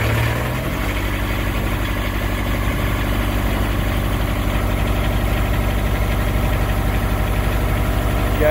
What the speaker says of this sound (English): Diesel engine starting, you hear the hum.